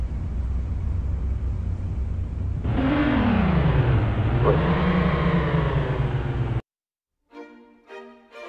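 A Peugeot car engine on a test drive hums steadily, then rises and falls through a loud rev with a sweeping pitch, before cutting to brief silence and a short rattling burst.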